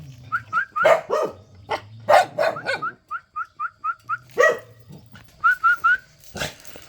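A black hunting dog barks in short sharp bursts at close range, mixed with high whistle-like yelps and whimpers in a rapid, uneven rhythm.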